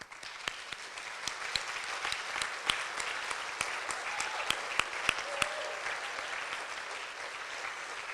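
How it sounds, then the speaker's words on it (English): Audience applauding at an awards ceremony, a steady dense roar of many hands clapping with sharp individual claps standing out, sustained for several seconds indoors. "let us give you a round of applause for your service"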